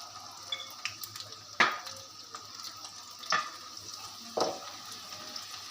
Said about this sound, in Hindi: 2 या 3 मिनट्स हमने बस इसका क्रिस्प बनाने के लिए ऊपर से फ्राई करना है